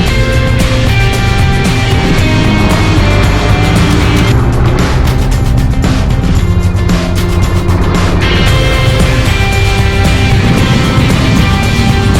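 A 2017 Honda VFR1200X motorcycle on the move, its engine droning loud and steady close by for the whole stretch, with no one talking.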